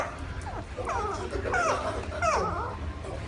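A dog gives a run of high, rising and falling yips and whimpers over a low background rumble, with no voices.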